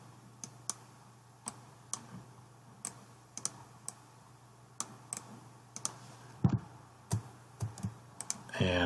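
Mouse clicks and keyboard presses from someone working in dental CAD software to align an occlusion scan, sounding as sparse, sharp, close clicks at irregular intervals over a quiet room hum, with a short burst of rustling at the end.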